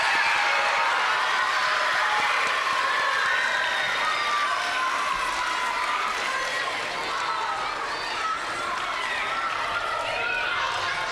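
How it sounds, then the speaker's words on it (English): At a school awards ceremony for fifth and sixth graders, a crowd in a hall gives effort award recipients a sustained round of applause that stays dense and steady for about ten seconds, with a murmur of voices underneath. "Let's give these effort award recipients a round of applause."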